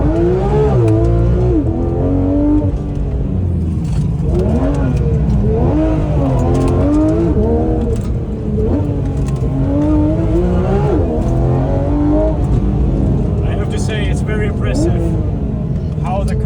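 Porsche GT3 RS sports car driving on a road near St. Tropez, loud engine revving and shifting pitch through gear changes and slides, with someone talking over the engine throughout.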